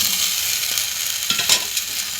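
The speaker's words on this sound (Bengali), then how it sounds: "আলুগুলো দিয়ে আলু বড়ি একসাথে ভালো করে কষাবো" Potatoes and fried lentil dumplings (bori) stir-fried together in a pan, with steady high sizzling and a few scraping stirs of a spatula, close and continuous.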